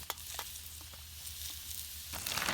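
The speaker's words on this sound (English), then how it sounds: "Frying them up in butter and steak juices." Potatoes fry in butter and steak juices at a winter bushcraft shelter, giving a close, steady sizzle with small crackles and pops.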